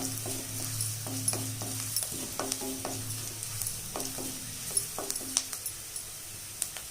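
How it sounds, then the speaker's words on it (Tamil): Garlic fries in a pan with a steady soft sizzle, broken by a scattering of light spatula taps and scrapes as it is stirred, close and moderately quiet with no talk. "இப்போ பூண்டு நல்லா வதங்கி வந்துடுச்சு"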